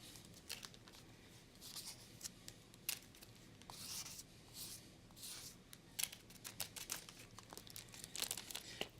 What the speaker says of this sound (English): So I'm going to take this, open it up, and I'm going to load up that bag.